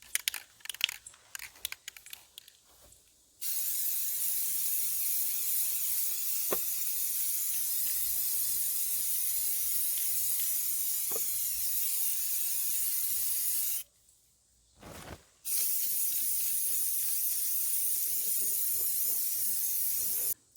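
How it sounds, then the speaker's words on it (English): Sealer is sprayed onto birdhouses in a long steady aerosol hiss, close and continuous, broken by one brief pause before resuming, after a few clicks and handling noises at the start. "let's spray the birdhouses with the sealer"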